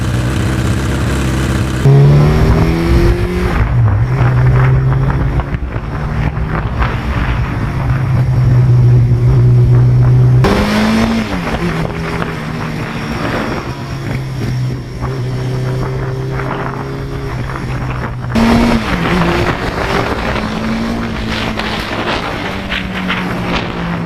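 A 1982 Suzuki GS1100E motorcycle engine runs close up, its pitch rising and falling through repeated revs, with a steady throaty rumble and no voices.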